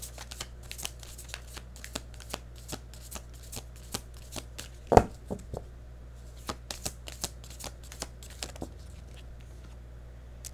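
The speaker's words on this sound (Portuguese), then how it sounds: "Vou nem baralhar muito não, porque eu tô com uma certa pressa." Tarot cards are shuffled in a quick, light riffle, a steady run of soft papery flicks and taps across the whole stretch with one sharper snap near the middle, close and quiet with no talking.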